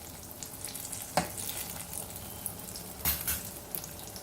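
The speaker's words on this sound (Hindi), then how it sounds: "इसी तरह से पूरे पकोड़े तल के तैयार करते हैं।" Bottle gourd pakoras fry in oil over a slow flame with a soft steady crackle and sizzle, broken by a couple of louder bubbling bursts and light utensil touches.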